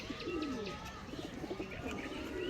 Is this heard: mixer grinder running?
no